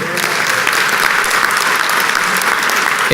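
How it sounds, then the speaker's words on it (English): Sustained applause from an audience at an award ceremony for innovation and leadership, steady and dense throughout with no clear gaps, loud and fairly close. "give yourselves a round of applause"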